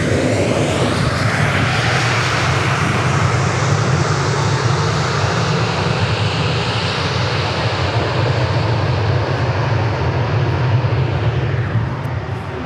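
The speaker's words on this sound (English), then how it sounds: "Another MAX 8 landing here on 13 left at Love Field." A Boeing 737 MAX 8 lands on runway 13 left at Dallas Love Field, its engines producing a loud, continuous, broad roar that holds steady throughout and stays close without any voices.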